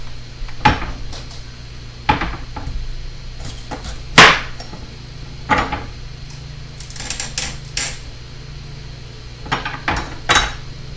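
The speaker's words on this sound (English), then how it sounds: "we got 2 really beautiful peppers here we're going to cut up" A knife chops bell peppers against a cutting board in scattered sharp knocks, with a few clustered cuts and faint background hum between them.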